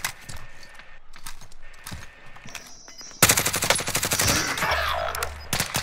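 Sniper fire in an online shooter video game, with a dense, loud burst of rapid gunfire starting midway and continuing to the end after quieter scattered game sounds.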